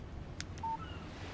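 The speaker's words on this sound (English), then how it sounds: "Text message from Barry" Short electronic phone alert for an incoming text message in the Alan Wake video game, a brief blip and a clean steady tone over a low background hum, heard alone.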